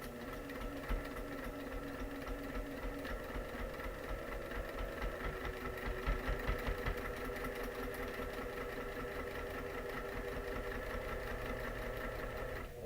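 A sewing machine stitches quilt seams at a quarter-inch allowance for foundation paper piecing, running slowly and steadily in a continuous mechanical hum with a fast underlying needle rhythm, close and alone.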